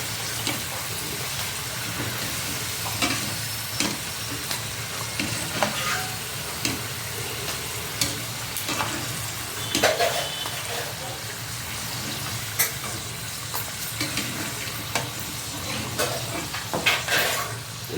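Potatoes for aloo fry crackle in a pan with a continuous mid-level sizzle. Occasional clinks and scrapes come from stirring, and someone talks over it now and then.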